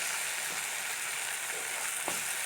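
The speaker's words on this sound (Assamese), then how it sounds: "এতিয়া বিলাহী ভজা হৈ গ'ল।" Chopped tomatoes sizzle in a hot pan over a high gas flame for bread pulao, a steady close hiss of frying with faint stirring clicks, and no voice.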